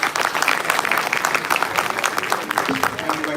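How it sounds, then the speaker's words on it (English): Audience at a university event applauding to welcome a guest, a dense round of clapping with voices mixed in throughout. "let's welcome him with a huge round of applause"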